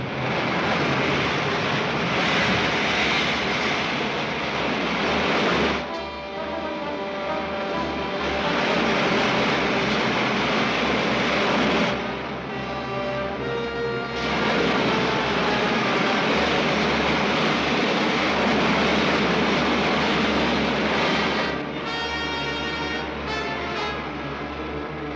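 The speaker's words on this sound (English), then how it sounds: "Firing main jets." The main jets of a rocket ship from a 1953 Commando Cody sci-fi serial fire with a loud, sustained roaring rush. The roar briefly dips and surges in bursts, with no one speaking over it.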